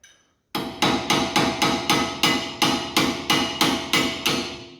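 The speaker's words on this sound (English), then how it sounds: "just use a little bit of a hammer" A dozen sharp metallic hammer taps drive a brake pad pin on a LADA Niva, in a steady rhythm, close and clear, each ringing briefly before the next blow.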